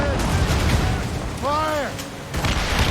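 Ship cannons boom repeatedly in a naval battle in Assassin's Creed Rogue, heavy low blasts rumbling continuously, with a shouted voice briefly rising above the barrage.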